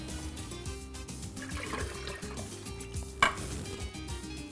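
Two quarts of beef stock are dumped into a pressure cooker over seared meat, a rushing, splashing pour heard under steady background music, with a sharp clink near the end.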